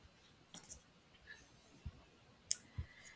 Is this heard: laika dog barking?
no